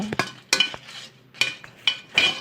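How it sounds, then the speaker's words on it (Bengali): Dried shrimp, garlic and dried chillies being fried in a pan, heard as a series of sharp metallic clinks and scrapes from a spatula, close and moderately loud, with short pauses between strokes and no speech. "আমি এখন এই রসুনগুলো ভেজে নিব তারপরে আপনার এই শুকনো মরিচগুলো আমি ভালো করে ভেজে নিব"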